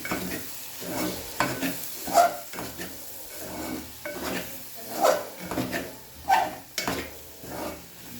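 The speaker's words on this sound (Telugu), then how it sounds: "garam masala and dhaniya powder వేసి మరొక నిమిషం పాటు స్టవ్ మీద పెట్టేసి స్టవ్ ఆఫ్ చేసేద్దాం" Egg curry with garam masala and coriander powder cooks on a stove, a soft bubbling sizzle under repeated spoon scrapes and knocks against the pot at irregular intervals, no voices.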